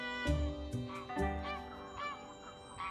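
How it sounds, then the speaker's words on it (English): Greylag geese honk several times, harsh nasal calls with a few fainter ones further off, against a quiet outdoor background. "The distant honking of grey-lag geese."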